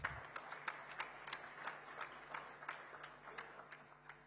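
A convention audience at the Indo-American Chamber of Commerce national gathering in Mumbai applauds, a fairly faint, scattered patter of clapping with distinct individual claps standing out against a soft background, rising and falling slightly.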